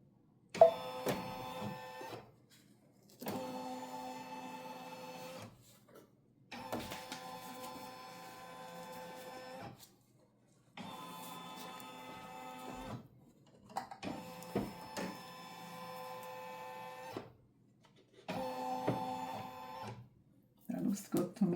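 A Brother Stellaire embroidery machine traces a design outline on a shirt held in a Snap Hoop Monster. Its motor whirs in about six short, mechanical bursts separated by quiet gaps, with occasional talk nearby.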